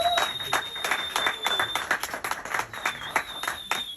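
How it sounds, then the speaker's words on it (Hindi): An audience claps warmly for Ehsan Khan at an event, a close, lively burst of many hands clapping in quick, uneven beats over four seconds. "पहले तो इनके लिए बहुत जोरदार तालियां।"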